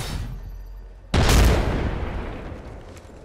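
A frag grenade in Apex Legends detonates with a sudden loud boom after a quiet moment, followed by a long rumbling decay that slowly fades.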